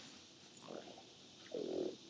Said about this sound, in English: She snorts like a pig.